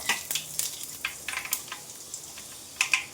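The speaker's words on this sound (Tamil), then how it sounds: "ஜீரகம், வெந்தயம் இது ரெண்டையும் நம்ம போட்டு நல்லா செவக்க விட்டுக்கலாம்" Cumin and fenugreek seeds crackle and pop in hot oil, sharp irregular spits over a soft steady sizzle, close up.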